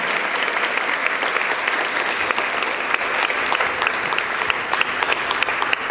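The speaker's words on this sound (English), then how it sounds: "Can we have a round of applause, please, for our gorgeous models and Hung Van Gogh." An audience at a beauty event applauds models and a makeup artist on stage, dense continuous clapping from a crowd at close range, even and sustained throughout.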